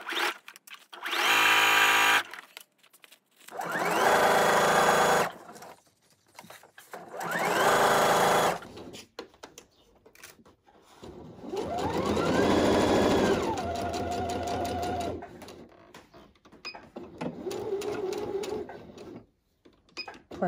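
Sewing machine stitching the seam of a fabric tote bag, running in several loud sustained bursts of a few seconds each, with short pauses between them and brief quieter stitching runs near the end.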